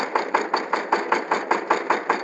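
A power tiller's engine runs close by in a fast, even, pulsing thump, loud and steady, with no talking.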